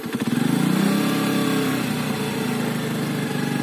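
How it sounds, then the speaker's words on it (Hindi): A TVS Radeon motorcycle engine is revved up with the throttle twisted, giving a steady, loud, close mid-pitched drone with a quick pulsing rhythm and no talk over it. "मैं इसका थोड़ा सा एक्सेलरेटर घुमाता हूँ, थोड़ा तेज़ करता हूँ इंजन को"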